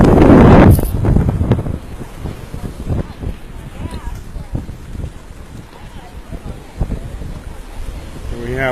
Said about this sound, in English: The waves are crashing. I think because of the wind, there are more waves than usual, or higher,